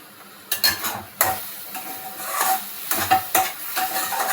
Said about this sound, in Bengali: এবার আমি মশলাটা কষাচ্ছি, দেখো তেল অনেকটা ছেড়ে এসেছে।